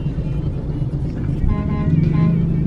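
Motorcycles buzzing past in dense lane-less traffic in Puerto Plata, Dominican Republic, a mix of engine rumble that swells as bikes draw near, heard from inside a car.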